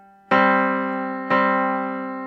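Piano dyad of C with the G below it, struck twice in succession, each stroke sounding clearly and ringing out with a slow decay, close and alone.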